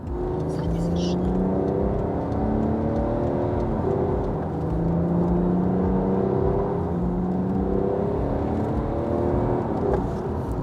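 A BMW 535 F10 sedan with 340,000 km on it accelerates in Sport Plus mode, the engine humming and rising in pitch, steady road noise throughout, with occasional voices under the drone.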